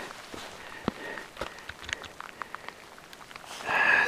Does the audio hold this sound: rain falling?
yes